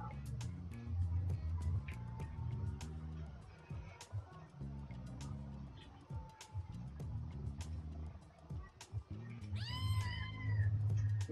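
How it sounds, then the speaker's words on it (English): A cat meows in the video game No More Heroes, a short cluster of rising and falling meows near the end, heard over steady game music with a person talking throughout. "he has a little kitty named Jean"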